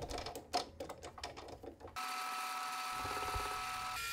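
A metal lathe cuts a scrap cone down to an 88-degree taper, starting with uneven chattering scrapes and then settling into a steady, even whine of cutting close by.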